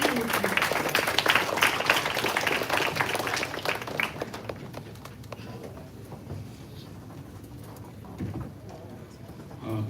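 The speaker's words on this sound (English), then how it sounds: "Please join me in extending a very warm welcome and a big round of applause to our guest of honor, Professor Sam Oakham" Audience applause at an academic conference welcomes a guest of honor, strongest at the start and tapering off over several seconds, with some background voices.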